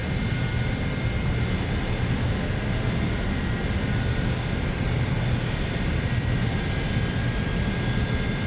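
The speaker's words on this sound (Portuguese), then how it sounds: "o motor está iniciando" An Embraer ERJ-135 jet engine spins up in a flight simulator game, a steady loud roar with a broad rumble and faint high whine holding evenly throughout, no voices.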